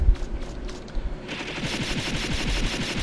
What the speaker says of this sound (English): I load the machine gun already